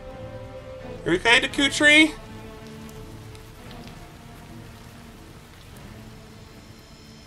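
Rain falls steadily in the video game Hyrule Warriors, a soft continuous patter under game sounds, with a short burst of loud character voice early on.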